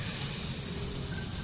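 Chili tempering sizzling in hot ghee, a steady, close, dense hiss and crackle that carries evenly through the short moment with no talking.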